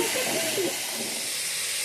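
Steam hissing steadily from a pressure cooker of black gram dal on the boil, a continuous close broadband rush, with a faint voice murmuring briefly under it at the start.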